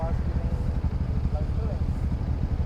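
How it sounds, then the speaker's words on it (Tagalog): A fake 250cc Ducati-style motorcycle engine putters at a steady, low, throbbing idle, close and moderately loud throughout, with people talking faintly over it. "Ganda na motor ni Sir, Ducati."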